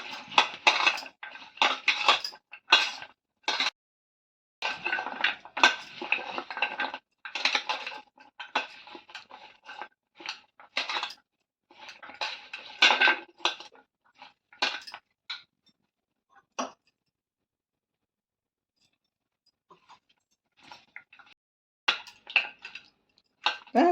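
Masala kadalai dough is kneaded by hand in a bowl as water is added bit by bit, giving irregular bursts of clinking, scraping and patting against the bowl, with brief pauses and a long quiet stretch near the end.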